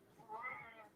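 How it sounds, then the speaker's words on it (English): A pet cat lets out a single clear meow, close by and moderately loud, rising and falling over about half a second against a quiet indoor room. "Kitty."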